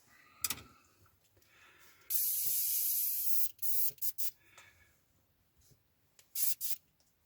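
An airbrush loaded with lacquer sprays paint on a 1/48 scale F-104J Starfighter model kit, giving a sustained close hiss for about a second and a half, then several short bursts separated by quiet gaps.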